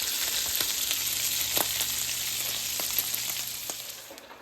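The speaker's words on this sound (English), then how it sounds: "Stir it up real nice." Potatoes, eggs and cheese cooking together in a skillet for breakfast, a steady sizzling hiss with scattered scraping stirs, close and even, fading slightly at the end.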